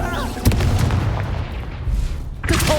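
Incendio fire spell cast in Hogwarts Legacy, a loud booming blast near the start followed by a rumbling, crackling burst of fire and combat noise, with a second impact near the end.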